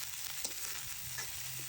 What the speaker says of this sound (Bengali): তেলে পেঁয়াজ ছেড়ে দিলাম।